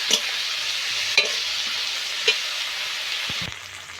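Spices frying together with onion paste and chopped tomato, a continuous close sizzle punctuated by a few sharp knocks and scrapes of a spoon against the pan, no speech.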